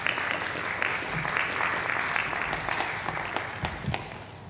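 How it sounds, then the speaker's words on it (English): Audience at a college awards ceremony gives Emily a round of applause: continuous hand clapping, moderately soft and steady, with a few sharper claps standing out. "let's give a round of applause to Emily."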